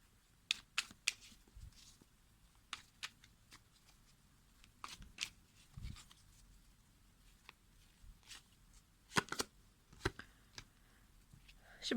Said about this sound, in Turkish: Şimdi buna bir kart seçeceğim ben.